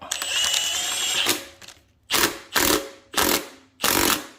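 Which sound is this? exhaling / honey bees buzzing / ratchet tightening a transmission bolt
ratchet tightening a transmission bolt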